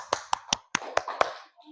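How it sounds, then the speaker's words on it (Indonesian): A classroom of students claps together in a quick rhythmic pattern, six sharp, evenly spaced claps in under two seconds, close and distinct, ending with faint voices. "Tepuk tangan."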